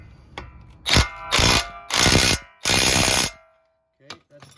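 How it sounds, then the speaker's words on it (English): An impact wrench tightens a tie rod nut on a car in four loud, rattling bursts, each about half a second long with short pauses between. A faint clink follows at the end. "So I'm going to use my impact here to tighten this up"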